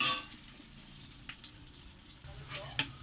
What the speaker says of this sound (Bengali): একটু লাল লাল করে ভাজা হবে আলুটা